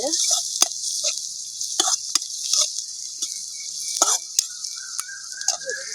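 Fennel seeds fry in hot oil for crab masala with a bright, continuous sizzle, punctuated by sharp clicks and scrapes of stirring in the pan, close and fairly loud, no voices.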